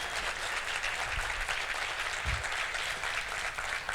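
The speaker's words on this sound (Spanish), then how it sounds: "Un aplauso, por favor" Steady applause from an audience at a Disrupt Ecuador talk, many hands clapping in a continuous dense wash, with a couple of low thumps under it.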